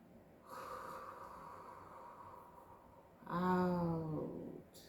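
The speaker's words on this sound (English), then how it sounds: "So we're going to breathe." Slow, deep breathing during a guided meditation: a long, soft inhale of airy breath, then a fuller, louder exhale with a slight voiced, nasal quality, close to the microphone in a quiet room.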